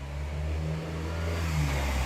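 A car engine revs and accelerates on a street outside a live property auction, a steady low mid-range drone that swells slightly, moderately distant and alone without talk.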